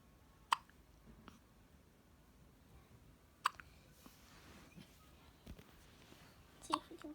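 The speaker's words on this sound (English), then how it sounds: "Is that a hiccup?" A baby hiccups softly in a quiet room: three faint, abrupt hiccups spaced a few seconds apart, with light rustling and small mouth sounds in between.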